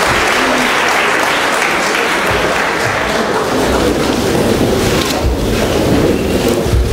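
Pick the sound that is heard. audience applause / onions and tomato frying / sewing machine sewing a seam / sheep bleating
audience applause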